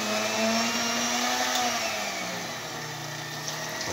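A 1970s Walita Candy RI3110 portable hand mixer whirring through mandioquinha purée, a loud steady motor drone whose pitch sags slightly midway as the load thickens, running alone throughout.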